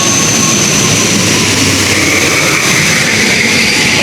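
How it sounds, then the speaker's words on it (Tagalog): An airplane passes overhead, a loud, steady engine roar that fills the entire moment without any voices over it. "may dumaan na aeroplano."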